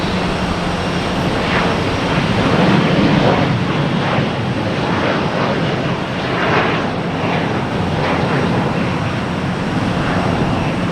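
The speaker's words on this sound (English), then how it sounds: "American Airlines here heading to JFK." American Airlines jet at night at Boston Logan Airport, a loud continuous broadband engine roar that holds steady throughout with slight swells, no talk.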